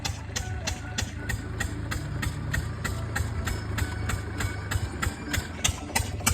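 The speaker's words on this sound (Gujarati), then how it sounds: "આજે આપણું ટ્રેક્ટર આવી ગયું છે." A farm tractor idles nearby, its engine putting out a steady low rumble with rapid regular clattering pulses throughout, loud and unbroken, with no talk over it.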